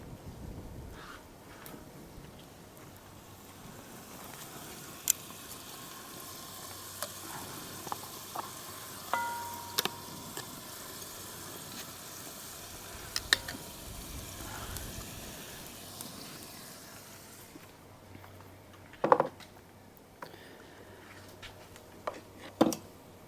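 Lamb shanks sizzling in a cast iron camp oven pot outdoors, a steady soft frying hiss with scattered pops and clinks, fairly quiet with faint wind in the background.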